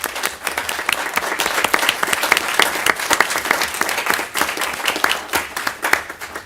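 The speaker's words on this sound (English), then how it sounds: "So please give Michael a round of applause." A council meeting audience applauding a departing member named Michael, a lively, sustained burst of many people clapping close by, fairly loud and unbroken.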